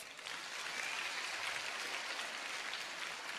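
A school audience at an event organised by Khammam private schools claps steadily and densely, a continuous soft wash of applause heard from a distance.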